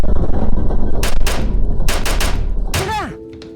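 Gunfire from a gun in a Filipino comedy game skit: several sharp, loud bursts in quick clusters over a busy background, ending with a descending whistling tone.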